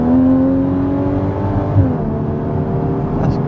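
Base Porsche Cayman with sports exhaust, heard from inside the cabin as a steady low engine drone and exhaust hum whose pitch dips and shifts mid-clip.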